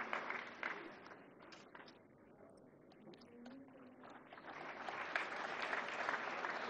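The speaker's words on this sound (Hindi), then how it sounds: "जोरदार तालियों से स्वागत करें।" An audience at the National Film Awards ceremony in Vigyan Bhavan applauds, a soft, distant swell of clapping that dips in the middle and then builds again, with faint voices mixed in.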